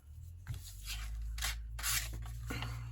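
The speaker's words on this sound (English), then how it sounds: "We're going to need our scissors." Scissors cutting along a score line in a paper Christmas gift bag during a craft project, giving several soft snipping and rubbing sounds close by and fairly quiet, with no talking.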